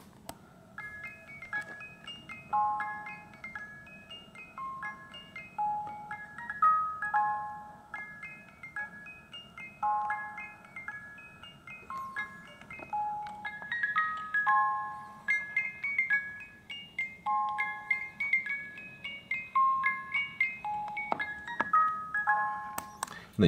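A musical wristwatch with a wound music mechanism plays Vivaldi's Spring as a tinkling, high-pitched melody of plucked comb notes, steady and fairly close, with a faint low hum beneath and no talking.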